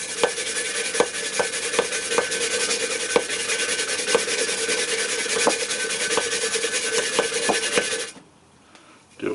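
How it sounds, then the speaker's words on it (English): Steady hand sanding with a 60 grit pad on a tumbler for a coral bowls project, a continuous close rasping rub with faint periodic ticks from the strokes, running for about eight seconds and then stopping into near quiet. "I'm just going to use a 60 grit hand pad"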